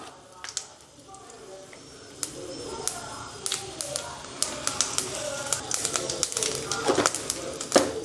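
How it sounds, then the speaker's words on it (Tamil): Mustard seeds splutter in hot oil with irregular sharp pops and crackles that grow denser over time, close and fairly loud, while a voice talks underneath. "நல்லா கடுகு பொரியுது"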